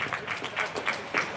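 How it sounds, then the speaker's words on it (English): Scattered spectators clap for a goalkeeper's save during a college soccer match between Alvernia and St. John Fisher, a light, irregular patter of hands from a modest crowd, fairly distant and brief. "As you hear folks clapping for him"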